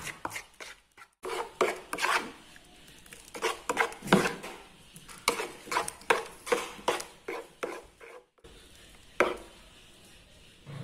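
Cornstarch flour batter with long beans and egg is stirred by hand in a bowl, giving a series of close, irregular scraping and tapping strokes with short pauses between them.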